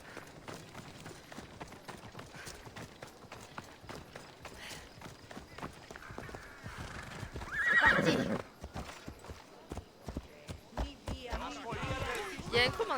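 A horse in a video game gallops with steady, rhythmic clip-clop hoofbeats. Partway through it lets out a loud whinny, and voices come in now and then.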